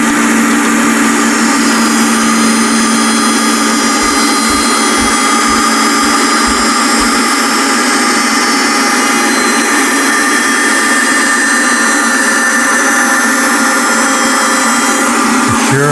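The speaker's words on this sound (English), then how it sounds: "At the bandsaw, it's time to make sawdust." A bandsaw with a sharp blade cuts a piece of wood along a marked line, a loud, steady mechanical roar and whine that runs without pause, with a few low thumps early on.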